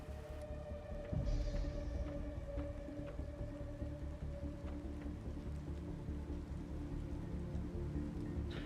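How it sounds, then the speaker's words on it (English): Steady rain pattering in the survival game Planet Crafter, a continuous even wash of drops over a low constant hum, with no speech. "See, now it's raining"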